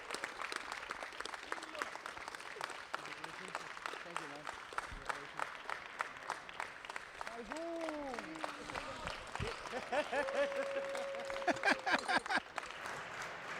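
Crowd cheering and applauding the champion teams from Portugal, Argentina and Spain at the Grand Prix Rotterdam 2016 finals; sustained clapping and cheers fill the hall, swelling near the end, while a voice talks over it.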